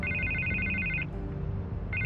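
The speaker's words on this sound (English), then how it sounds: "I can't get the phone to stop ringing." A telephone rings in Telltale's Batman game with a repeating electronic trill, ringing steadily for about a second, pausing, then starting again, over a low, busy game background.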